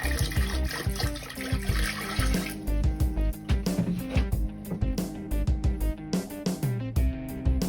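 Steady trickling and splashing water leaking inside an RV toilet bowl, continuous and close, with uneven gurgling pulses and no one speaking.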